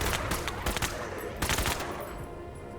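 Gunfire from shooting enemies in the strategy game Menace comes as dense bursts of rapid, loud shots in two main volleys, with the second fading into a quieter tail.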